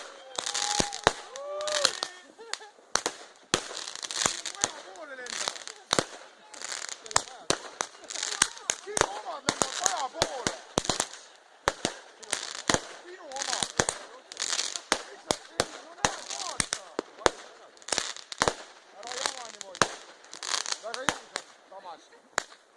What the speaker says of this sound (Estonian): Esimesed rakett.